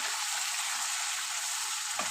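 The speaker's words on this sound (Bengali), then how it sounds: "আমার মশলা বেশ ভালোভাবেই কষানো হয়ে এসছে, দেখো তেল ছেড়ে দিয়েছে" Masala spice paste for a fish curry sizzles in hot oil with a continuous, dense, close hiss and no talking.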